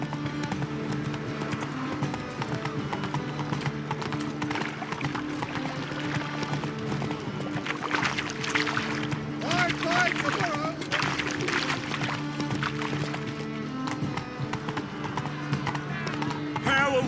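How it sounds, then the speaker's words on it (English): The horse Roach gallops in The Witcher 3 video game, with rapid, steady clip-clop hoofbeats throughout, under spoken dialogue and a background music score. "Whoa there, Roach."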